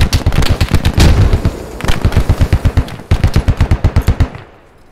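Close, loud bursts of rapid automatic gunfire in a first-person shooter, several long rattling volleys with short pauses and a heavy grenade blast, ending with the noise cutting out.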